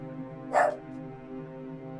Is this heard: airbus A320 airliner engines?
no